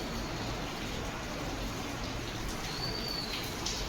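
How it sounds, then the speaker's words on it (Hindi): Evening rain falling steadily outdoors, a soft continuous hiss of drops at low level, with a brief faint bird call near the end. "शाम से बारिश स्टार्ट हो गई है"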